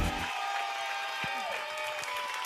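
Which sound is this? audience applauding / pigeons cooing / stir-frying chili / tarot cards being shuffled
audience applauding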